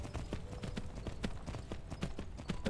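Horse hooves clip-clop in Skyblivion, a steady, moderately paced clatter of individual hoofbeats, close and fairly quiet, with no talking over them.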